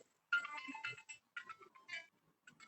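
A phone ringtone plays a bright electronic melody in short bursts with brief gaps, fairly faint, at a poetry recitation competition.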